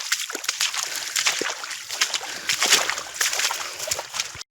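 Feet splash and slosh through water-flooded fields at night, an uneven series of close watery plunges and sprays that repeats steadily with no clear talk.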